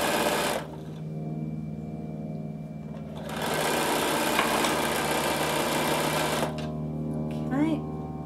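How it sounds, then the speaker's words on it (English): A sewing machine stitches down a line on cotton fabric while a produce bag is made from a fat quarter. Its motor hums in two steady runs, the second longer and louder, with a quieter pause and a brief whir between them. "So now I'm just sewing down, following my line."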